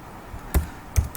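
Computer keyboard typing: three quick, close key taps, with the last two a short moment apart, against a quiet background.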